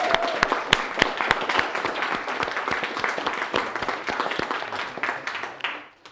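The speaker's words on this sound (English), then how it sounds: "So she needs a round of applause for that, I think." Wedding guests at the speeches break into a round of applause, dense clapping with a few sharp individual claps standing out, holding steady before trailing off at the end.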